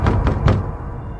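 Three firm knocks on a door in quick succession, dull and fairly close, followed by a quiet room.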